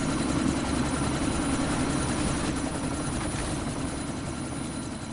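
Helicopter rotor from the video game Deus Ex, a steady, loud chopping whir with a heavy low drone that holds throughout, no voices over it.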